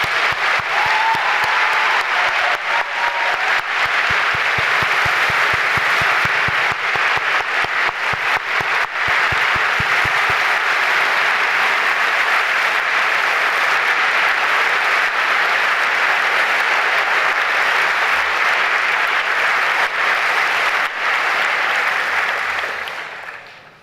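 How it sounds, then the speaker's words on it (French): Long, dense applause from a large audience at a medical graduation ceremony, loud and sustained for over twenty seconds before it fades at the end, with no voices over it. "Je propose qu'on vous applaudisse tous et toutes encore une fois."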